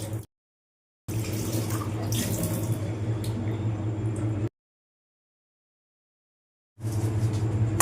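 Tap water runs into a sink while fish roe is rinsed for a curry, in a steady hissing stream that starts, stops, then starts again, close and moderately loud, with no talk.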